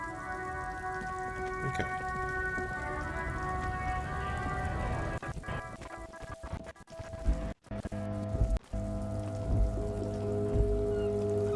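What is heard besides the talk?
rain falling on a city, from the video game Disco Elysium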